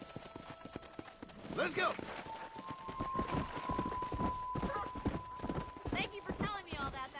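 A horse gallops in the Red Dead Redemption video game, its hooves clip-clopping in a quick steady rhythm, with a brief whinny near the start. Someone shouts briefly over the hoofbeats.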